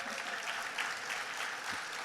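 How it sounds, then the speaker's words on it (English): An audience claps for a recipient at a CDFI industry awards ceremony. The applause is continuous and evenly textured, with no voices over it. "Come on, applause for her."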